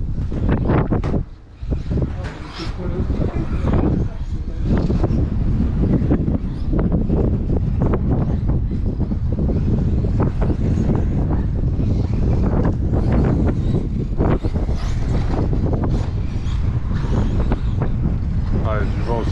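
Strong wind buffets the microphone at an outdoor RC car track, a loud, continuous rumbling roar with brief dips, and people talk over it.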